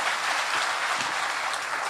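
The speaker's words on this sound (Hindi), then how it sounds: "ताली बजाइए इनके लिए।" Audience at a live spiritual darbar gathering claps steadily, a dense, even wash of applause filling the hall for a couple of seconds with no voices over it.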